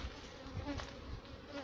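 Honeybee buzzing steadily and close in a backyard apiary in Jamaica, a continuous droning hum with slight swells as it circles nearby, heard alone.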